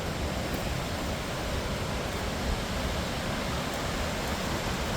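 A river or creek rushes steadily at Whatcom Falls beneath a stone bridge, a continuous broadband roar of flowing water, close and even in level throughout, with no voices.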